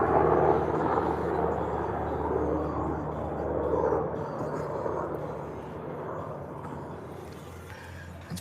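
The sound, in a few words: helicopter flying overhead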